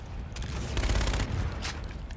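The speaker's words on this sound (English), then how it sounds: "I think that was actually the ship that was shooting me." Sustained automatic fire from a ship shooting at the player in Infinite Warfare, a video game, a dense rattling barrage that continues without a break, close and steady.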